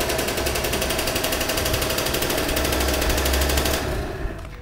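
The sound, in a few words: kick-starting a 50cc scooter engine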